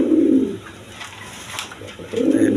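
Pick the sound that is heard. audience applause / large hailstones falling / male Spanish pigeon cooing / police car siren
male Spanish pigeon cooing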